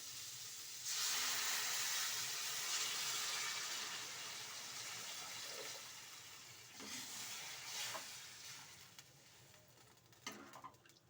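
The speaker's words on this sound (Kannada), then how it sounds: "ಇವಾಗ ಒಂದು ಅರ್ಧ ಲೀಟ್ರಷ್ಟು ನೀರು ಹಾಕೊಳ್ಳಿ" About half a litre of water is poured into a hot cooking pot for radish saaru. It bursts into a loud, close hissing sizzle that slowly fades, followed by a few scraping stirs.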